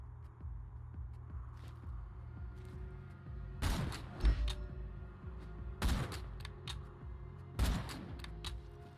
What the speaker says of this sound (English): I recklessly shot at an enemy before going behind cover though